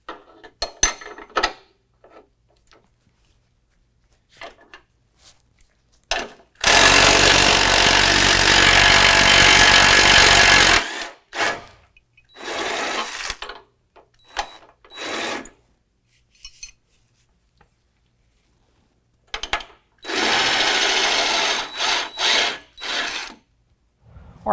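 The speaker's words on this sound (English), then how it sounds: "We're going to use a 21 millimeter socket and wrench to remove that" Socket wrench and ratchet on 21 mm differential crossmember bolts of a 2019 GMC Sierra 1500 during a lift kit install: bursts of clicking ratchet and metal scraping, including one long loud stretch, separated by quiet gaps.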